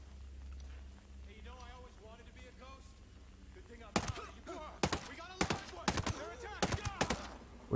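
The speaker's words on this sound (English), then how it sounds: "I couldn't quite hear you over the gunshots" Gunfire in the video game Ghost Recon Breakpoint comes as a burst of sharp, loud shots at a steady rhythm in the second half, after quieter stretches with a voice talking faintly underneath.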